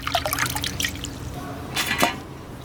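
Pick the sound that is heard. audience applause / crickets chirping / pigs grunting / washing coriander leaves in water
washing coriander leaves in water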